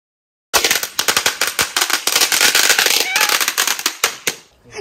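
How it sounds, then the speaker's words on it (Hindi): A string of firecrackers bursts nearby in a rapid, loud, continuous crackle of sharp pops lasting several seconds, with voices faintly audible underneath. "अभी उधर बम फूटा था"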